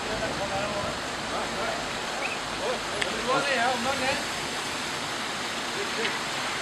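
Floodwater after heavy rain rushes through streets in Bodrum, Turkey, a steady broad roar of flowing water at moderate distance, with faint voices briefly audible in the middle.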